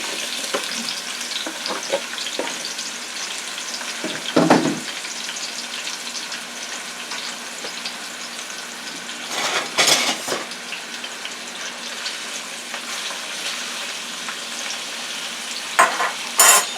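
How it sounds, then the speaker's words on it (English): Onions sizzle and crackle steadily in a hot pan, with a few louder bursts of stirring and clinking utensils breaking through the constant frying hiss. "Okay, so I'm going to put the onions in."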